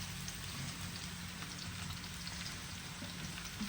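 Eggplant frying in hot oil for a prawn curry gives a faint, steady sizzle and crackle with a few soft stirring scrapes, with no voices.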